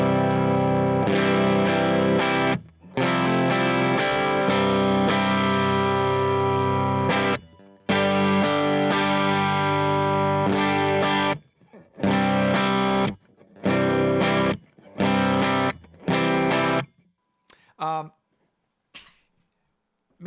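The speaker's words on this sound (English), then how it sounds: "my first thing in the pedal board, like gain staging wise, is this diamond compressor" An electric guitar runs through a Diamond compressor pedal at the start of a pedalboard chain, playing sustained, evenly levelled chords and notes in bursts with gaps, ending in a few short picked phrases.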